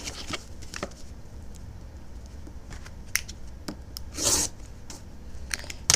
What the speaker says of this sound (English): we're gonna fold back the other side and trim this off